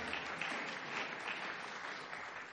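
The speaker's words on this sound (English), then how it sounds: "Yeah, you can clap." Audience at a talk on regulating the digital economy breaks into applause, a soft, even wash of clapping from a crowd in a hall, somewhat distant and steady throughout.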